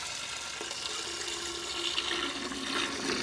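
Water rushing through the open flush valve of a GrowoniX EX1000 reverse osmosis filter and out the drain, a steady hissing flow that swells slightly toward the end, with no voices.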